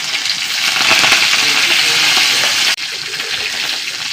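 Mustard seeds and two dried red chillies sizzling loudly in hot oil, a dense, continuous crackling hiss with one brief dip near the end.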